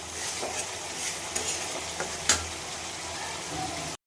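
Spice paste for a banana flower curry fries and gets stirred in a pan, giving a steady close sizzle with scraping strokes and a sharper clatter partway through, no voices.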